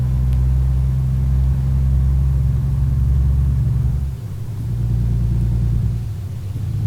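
A heavy truck engine in American Truck Simulator, cruising in top gear 18 on light throttle, makes a steady low rumbling drone that dips briefly midway before resuming, with no talking over it.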